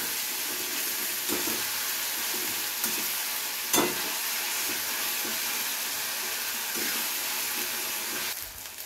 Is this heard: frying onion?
yes